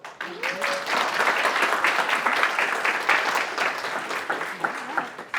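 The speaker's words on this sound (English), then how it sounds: "big applause" An audience at a presentation gives a big round of applause, a dense, sustained clatter of many hands that holds steady throughout, with a faint voice briefly audible near the start.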